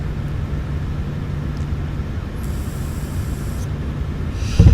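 A small airplane's engine drones steadily in flight, a constant near hum with a faint tonal whine over airflow noise, then a brief rise at the very end, with no voices.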